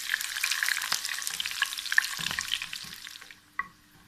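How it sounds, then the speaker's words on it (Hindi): Red chillies sizzle and fry in hot oil with browned garlic in a pan, a steady crackling hiss with a few sharp pops and scraping stirs that fade toward the end. "अब हम इसमें डाल देते हैं ये लाल वाली मिर्चें। इसको भी थोड़ा सा फ्राई कर लेते हैं"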